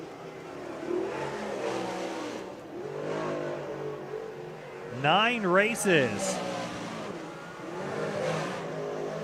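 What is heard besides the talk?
Napa modified race cars accelerating at Georgetown Speedway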